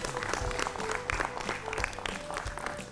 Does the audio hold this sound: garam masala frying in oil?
no